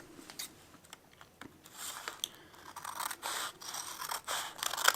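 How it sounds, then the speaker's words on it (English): Scissors snip through a folded paper square, a quick run of crisp cuts that grows louder and denser toward the end, heard alone with no talk. "grab one of your squares, fold it in half, and then cut it right through the middle"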